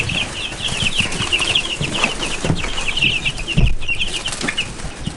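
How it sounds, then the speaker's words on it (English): Thirty baby chicks in a homemade brooder give a steady, dense chorus of high cheeping throughout, with occasional rustling and a brief thump nearby. "We have 30 of them in the chicken brooder that I built earlier."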